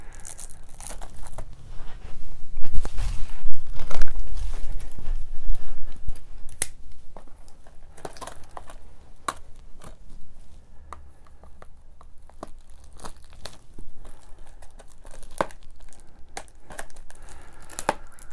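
Crinkling plastic and snipping scissors, with rustling, crunching handling noises that come in bursts, loudest early on and continuing more sparsely.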